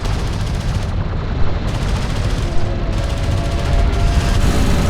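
Sustained battle gunfire from a Homeworld: Deserts of Kharak desert skirmish, a dense, continuous roar of shots and explosions that stays loud throughout, with no talking.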